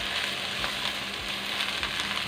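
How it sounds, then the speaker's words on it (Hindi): Vegetables including cabbage frying in a pan for a chicken vegetable biryani, stirred together: a steady, close, continuous sizzle with faint scraping of the stirring, and no voices. "इसको हम अच्छी तरह मिक्स कर लेते हैं"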